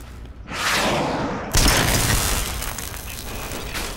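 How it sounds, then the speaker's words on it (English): An emergency pulse explosion in the video game Fallout 3 starts as a swelling rush, then breaks into a loud blast whose broad roar lingers and slowly fades. "You can activate the emergency pulse explosion."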